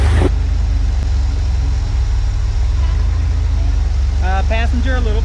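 Off-road rock crawler engine held at low throttle, a steady low rumble running throughout, with a person talking near the end.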